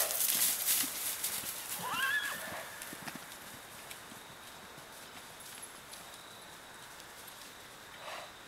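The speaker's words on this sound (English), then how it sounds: "You're just a good looking horse when you get all fuzzied up." A horse gives a clear whinny near the start and again briefly at the end, over faint hoof clip-clops outdoors in Arkabutla, Mississippi, with a quiet rural background.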